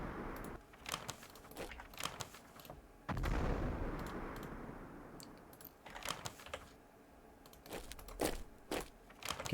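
Repeated artillery booms and gunfire from a CAOS Battle of Gazala war game, with a big blast near the three-second mark and scattered sharp reports through the rest, some close and loud, others softer.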